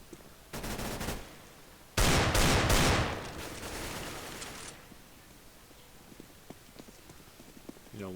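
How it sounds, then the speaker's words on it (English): Submachine gun fire in a Counter-Strike-style game: sharp bursts of rapid shots, one short burst then a longer, louder volley, followed by fading footsteps and quieter in-game clatter. "teammate comes in, kills him with the submachine gun"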